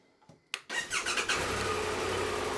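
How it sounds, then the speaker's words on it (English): A Triumph Tiger 1200 motorcycle engine cranks briefly and catches, then settles into a steady, fairly close running sound that fills the rest of the short stretch. "So start the bike up."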